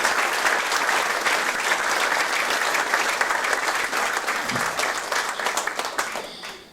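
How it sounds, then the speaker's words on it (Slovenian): Audience applause at a festival of a university for the third age in Celje, a sustained even wash of many hands clapping that slowly thins near the end. "En aplavz, prosim, za vse nas."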